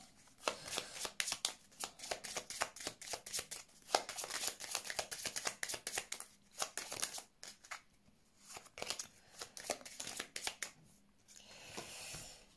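Tarot cards being shuffled by hand, a close, crisp riffling and slapping in rapid bursts broken by short pauses, fairly quiet, with no clear talk.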